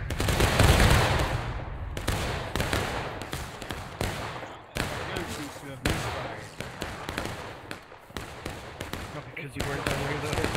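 Musket volleys in War of Rights crack out as a string of sharp, loud, broadband blasts at irregular intervals, with spoken commands between them.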